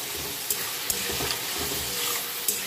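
Spiced potato curry with bottle gourd fries in a pan while being stirred, giving a steady broad sizzle and hiss with a few soft scrapes of the spoon and no talking.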